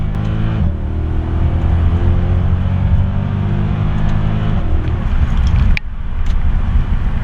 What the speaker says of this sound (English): The M156 is one of the greatest engines ever made, full stop.